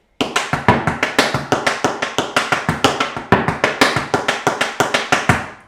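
Rapid tap dance steps mixing toe brushes and heel drops, a steady train of crisp, close taps at an even rhythm with no talking.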